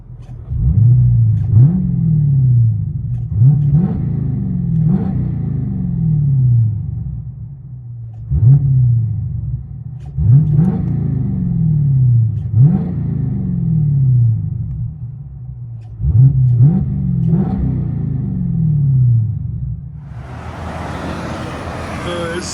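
Dodge Challenger 392 Scat Pack with a 6.4L HEMI V8, dyno bullet mufflers, mid and rear delete and quad tips, revved repeatedly from inside the car: a series of deep, loud blips in quick rhythmic bursts, ending in a hiss.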